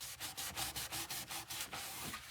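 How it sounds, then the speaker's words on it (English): Rhythmic rubbing strokes of a wet rag wiping excess Gorilla Glue off a wooden veneered cabinet, about nine even back-and-forth swishes, close and moderately loud with no voices. "let me go ahead and get a wet rag and get all the extra glue off"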